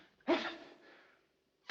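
A single sharp sneeze with a breathy inhale before it and a fading exhale after, fairly close, followed by a short pause.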